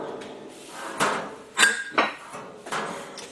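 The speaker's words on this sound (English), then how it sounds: "This is the top of an old oxygen bottle or a gas bottle or something. Welded it to a piece of metal handle. And this is an easy way to knock some shape into a panel." A homemade hammer, its head made from the top of an old oxygen or gas bottle welded to a metal handle, knocks shape into a metal panel on a bench: several sharp, resonant metallic blows at uneven intervals.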